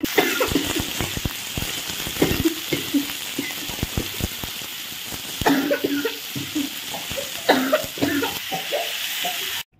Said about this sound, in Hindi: यहाँ बना रही हूँ टमाटर की चटनी